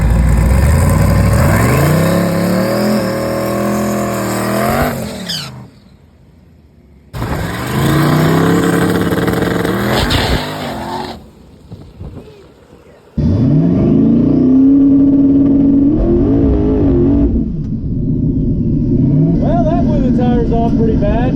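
A 5-second street drag car launching at full throttle and blowing the tires off, loud rising engine bursts in three separate runs with short gaps between them, ending in a sustained roar with voices around it.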